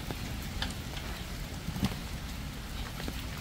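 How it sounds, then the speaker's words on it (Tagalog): Steady rain patters and hisses throughout, with scattered louder drops landing close by, and no voices. "Umuulan na."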